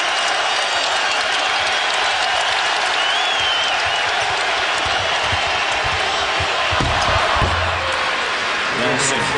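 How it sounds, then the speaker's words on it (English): Basketball arena crowd applauding and murmuring during an NBA game, a constant roar under a commentator's play-by-play, with a few ball bounces and thumps near the end. "Quieting the crowd."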